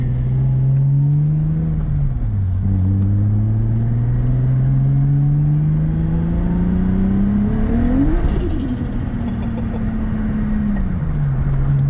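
A Nissan 240SX with a swapped Skyline RB25DET engine runs on E85, droning loudly and steadily from inside the car as it accelerates through the gears with rising and falling revs, including a sharp high rev peak before the next shift.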